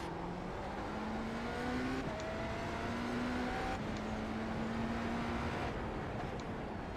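A cross-plane V8 race car engine in a racing video game roars continuously, its pitch climbing then dropping with each gear shift, repeating several times at high revs.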